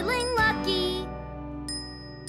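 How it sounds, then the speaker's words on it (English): A small bell from a Thomas & Friends cartoon gives a couple of bright dings with a tinkling ring that lingers and fades, then a softer ding near the end, with faint background music underneath. "I've got this bell with me"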